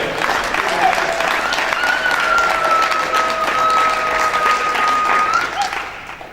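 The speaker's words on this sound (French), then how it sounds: "accueillir avec vos acclamations, vos ovations, le révérend pasteur Louret Issé Samuel." A church congregation gives a loud, sustained ovation of applause and cheering to welcome a reverend pastor, with a few whistles or tonal shouts riding over the dense clapping before it fades at the end.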